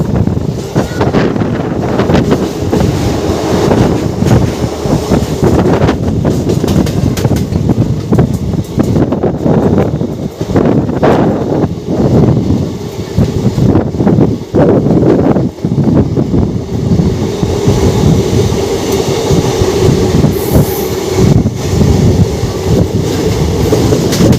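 Express train from Kolkata to Digha rolling steadily along the rails, with continuous loud rumble and clatter from the carriages and wind buffeting the microphone throughout.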